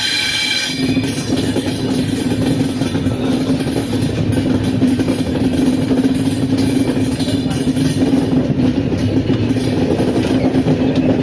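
A passenger train rumbles along steadily through dense jungle, with a continuous heavy roar of wheels on track, loud and close throughout.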